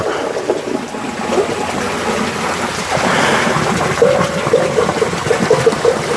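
Water gushes and splashes steadily from a pipe, a loud, continuous rushing flow close by.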